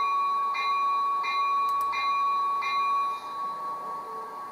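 The bell of a Rapido Amtrak F40PH model locomotive with a DCC sound decoder rings with a few evenly spaced metallic dings, faint against a steady electronic hum.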